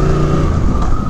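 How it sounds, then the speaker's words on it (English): A car fitted with a Kaufman Thunder exhaust drives along with a deep, steady engine drone, loud and close for a brief moment without any talk. "that Kaufman's thunder exhaust just sounds so good"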